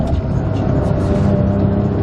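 Loud, steady engine hum and road noise from a car driving, heard from inside at close range with no talking.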